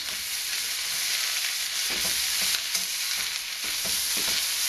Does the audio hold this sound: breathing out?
no